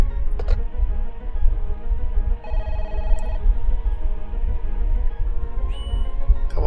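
An alarm phone in the video game Parasite Eve rings in short electronic bursts, repeating several times over a low background game drone.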